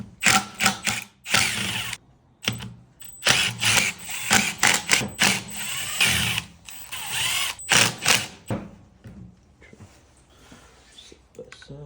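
A ratchet wrench spins off the outer bolts of a car supercharger in rapid clicking bursts of varying length, separated by short pauses, fairly close and with no talking.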